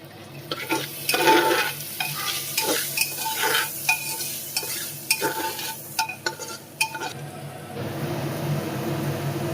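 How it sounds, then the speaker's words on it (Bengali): Rinsed broken wheat (dalia) being stirred into a pan of baby khichdi, with repeated scraping spoon strokes over a soft sizzle, close and clear, settling into a quieter simmer at the end. "এখন ধুয়ে রাখা ডালিয়াটাকেও অ্যাড করে দেব। খুব ভালোভাবে আরেকটু নাড়িয়ে চাড়িয়ে নেব।"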